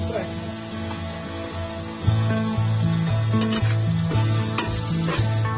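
Chopped onions fry in a pan for a clam thoran, giving a steady close sizzle with a few stirring clatters, all beneath a melodic backing track.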